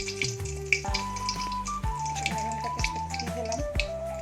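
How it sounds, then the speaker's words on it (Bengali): Dried red chillies and fresh bay leaves crackle and sizzle steadily in a generous amount of hot oil in a kadai for a Bengali chicken curry, with sharp spitting pops and faint clinks throughout, close and without talk. "কড়াইতে তেল দিয়ে দিয়েছি বেশ অনেকটা বেশি দিয়ে দিয়েছি এতে দিয়ে দেবো শুকনো লঙ্কা তেজপাতা"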